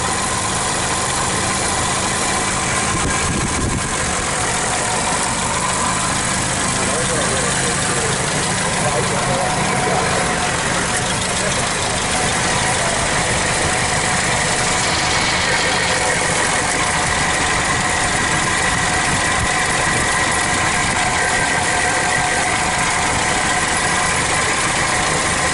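Engine of a 1965 Citroen DS 19 Pallas idles with its pulley turning, a steady loud close mechanical hum and rumble that carries on without a break under occasional talk.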